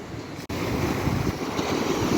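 Waves wash steadily onto the Black Sea shore in Odesa: a broad, rushing surf noise with wind buffeting the microphone and a brief dropout near the start.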